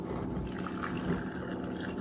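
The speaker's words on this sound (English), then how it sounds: "Now I'm just going to pour some warm water over the top" Warm water poured into a jar over sliced apples with a teaspoon of salt, a continuous close trickling and gurgling with faint drips, steady and moderately loud, no voice.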